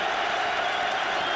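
A football stadium crowd at a Louisville at Rutgers game roars and cheers steadily, a dense wash of many voices with scattered applause, loud and continuous throughout.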